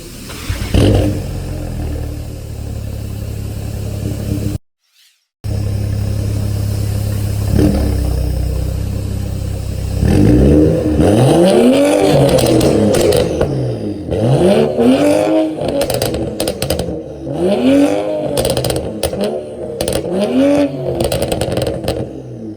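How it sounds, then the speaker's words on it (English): Loud engine revving from a car flashed with an MHD tune: a steady close idle, a brief dropout, then a run of sharp repeated rev sweeps that rise and fall in quick succession, with no talking. "Alright, that was some revs."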